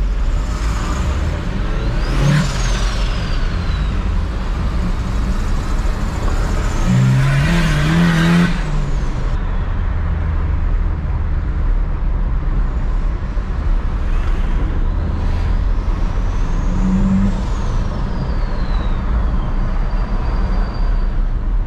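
A Ford Ranger turbo pickup is driven hard, its engine roaring loudly and steadily throughout, with rising turbo whines swelling a few times over a heavy, continuous rumble.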